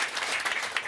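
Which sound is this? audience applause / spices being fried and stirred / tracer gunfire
audience applause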